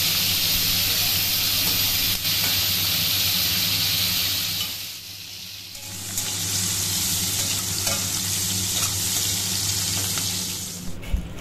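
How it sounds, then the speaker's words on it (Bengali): Prawns coated in turmeric and salt fry in hot oil, giving a steady, close sizzle that stays loud throughout, dips briefly in the middle, and ends with a small clink. "আমি মাছগুলোকে হলুদ লবণ মাখিয়ে একে একে ভেজে নিই।"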